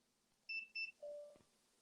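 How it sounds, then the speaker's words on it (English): A home alarm system gives two short high electronic beeps followed by a longer lower tone, faint and alone in a quiet room. "That's my alarm system going off."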